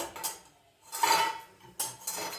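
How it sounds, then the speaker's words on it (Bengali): Fried food is lifted into a metal dish in a home kitchen, giving a few close, sharp metallic clinks and scrapes of utensil against metal in short bursts, with no talking. "এইবারে আমি এই বাসনে তুললাম"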